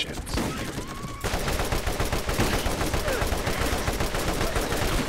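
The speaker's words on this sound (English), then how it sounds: "I'll try using my assault rifle." Rapid assault rifle fire from the video game Borderlands, a dense, continuous rattle of shots sustained loud through most of the stretch after a brief quieter opening.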